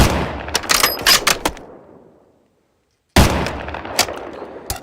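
Rapid bursts of gunfire from a gun in a Minecraft Bedrock mod, loud and close, with a pause of near silence before a second volley of quick shots.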